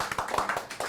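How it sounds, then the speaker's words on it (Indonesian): Quick hand claps in a short burst, soft and close, a few sharp slaps in loose rhythm with no talking. "Tepuk tangan."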